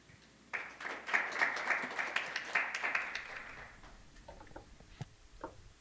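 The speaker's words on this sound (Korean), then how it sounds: "큰 박수 부탁드립니다." Applause at an XR industry conference for a prerecorded speaker: a modest burst of clapping from a small crowd, rising sharply, sustained for about three seconds, then dwindling to a few scattered claps.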